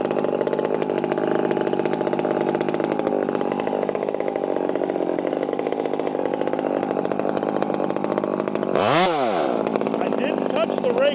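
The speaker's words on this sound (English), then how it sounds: "Okay, same wood, same saw. Give her a minute to warm up." A top-handle chainsaw idling and warming up, a close, steady buzzing drone with one sharp blip of the throttle near the end.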